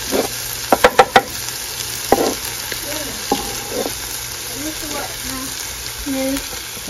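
Minced garlic sautés with vegetables in a pan for coconut curried tofu. Sharp utensil clinks and scraping stirs come early, then a steady soft sizzle continues under faint voice-like sounds.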